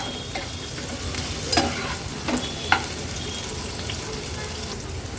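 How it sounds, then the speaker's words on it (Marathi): Garlic and a small onion fry in hot oil for an Agri-Koli style backwater fish thali, a steady close sizzle with a few sharper clinks of a stirring spoon against the pan. "तेलावर लसूण आणि कांदा व्यवस्थित आपल्याला शिजवून घ्यायचा आहे।"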